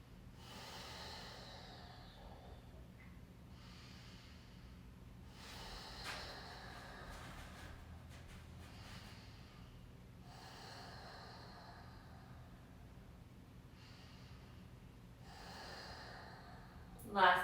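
Slow, deep breathing close to the mic during a stretching exercise with a tennis ball under the back, long airy inhales and exhales repeating about every two to three seconds over a low steady hum.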